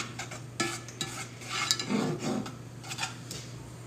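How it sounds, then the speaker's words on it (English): Butter melting in a pan for mushrooms is swirled with a utensil, giving close scraping and soft clinks over a faint sizzle, with a steady low hum underneath. "to swish my butter around and get it all spread out"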